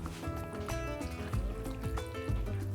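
Roughly 50 ml of water is poured into a mixture of ground black pepper and citric acid for an eggplant and pomegranate salad, giving a close, uneven trickle and splash with small drips throughout.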